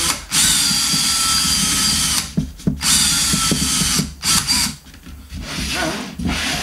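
A power drill boring a hole through the shell of a DIY drum, loud close whining bursts that stop and restart several times, with brief ratcheting clicks and handling noise in the pauses.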